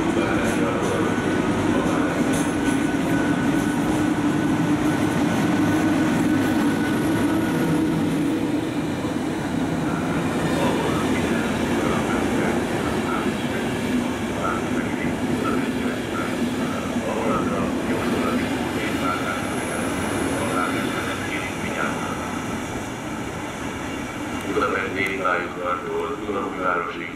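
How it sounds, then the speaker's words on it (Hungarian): An InterCity train at a platform of Budapest Kelenföld station, rumbling and clattering steadily with squeals and rattles of the cars, loud and close, while a platform announcement plays over it. "Az 5. vágányra vonatindul."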